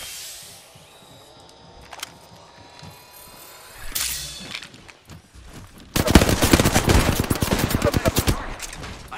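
Apex Legends gunfire, scattered shots at first, then a loud, dense burst of rapid automatic fire filling the last few seconds, close and aggressive.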